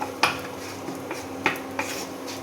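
Cinnamon sticks and cardamom pods go into hot ghee in a pan, giving a few sharp metallic clinks and taps over a soft steady hiss.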